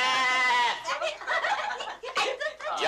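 A ram or sheep bleats loudly and close by in a long wavering cry at the start, followed by excited voices and laughter.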